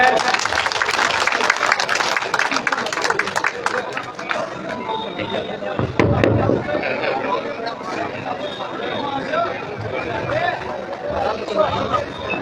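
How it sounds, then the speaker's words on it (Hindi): A crowd gives loud applause welcoming guests at a village gathering in Ramgarh, Bhadra, steady clapping with hubbub and chatter running under it for the whole stretch. "जोरदार तालियों से स्वागत।"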